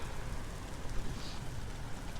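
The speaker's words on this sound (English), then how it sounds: "Oh, it's starting to rain," Light rain beginning to fall outdoors, a faint steady patter and hiss of drops with no talking.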